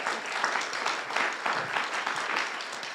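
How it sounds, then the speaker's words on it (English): People at a city council meeting applaud, a full, even round of clapping from the audience in a room that stays steady for the whole span. "can everybody clap for the support sisters?"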